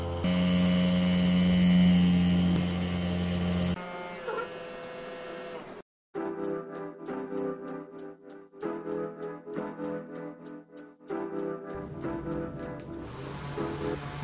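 Small DC motor spinning at roughly 18,000 to 19,000 RPM on about 30 volts, a steady high-pitched whine with a loud opening stretch, a brief cutout, then an even hum marked by rapid regular ticks.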